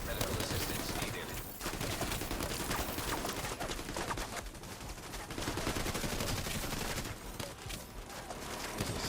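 Gunfire in The Division 2 video game rattles almost continuously, with dense sharp cracks and bursts, a short lull, then more shots, loud and close.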